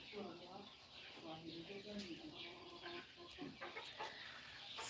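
A small flock of chickens clucks faintly while being given food, with soft, scattered calls heard under people talking.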